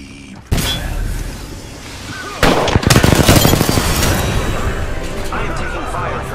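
Gunfire in Apex Legends, a sharp opening shot followed by a loud cluster of rapid shots and booms, with in-game voice lines running over the action.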